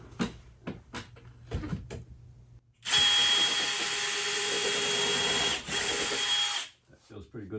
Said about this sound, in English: So now we're gonna try to find our stud by using a pilot drill. It's a small drill.